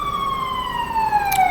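A fire truck siren on a Los Angeles street wails loud and close, its falling tone sweeping steadily downward with a brief burst of noise near the end.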